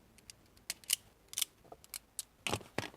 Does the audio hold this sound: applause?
no